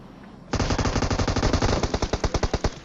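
Automatic gunfire in PUBG Mobile bursts in suddenly as a rapid, loud string of shots that continues for a couple of seconds, with the spacing between shots widening toward the end.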